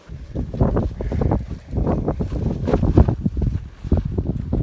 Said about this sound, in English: this damn wind won't stop blowing